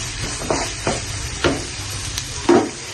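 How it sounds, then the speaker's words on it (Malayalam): Onions and chicken being sautéed in a pan for a Kerala-style chicken thoran, with a soft steady sizzle broken by several distinct stirring scrapes of the spoon, close and fairly quiet, with no talking. "നന്നായിട്ട് വഴറ്റി കൊടുക്കാം"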